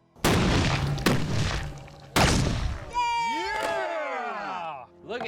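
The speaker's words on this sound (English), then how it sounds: "Fire in the hole! This is Swedish cannon in 3," Swedish cannon firing a bottle outdoors, two sharp booming shots followed by a third loud blast, then excited shouting and cheering from several people.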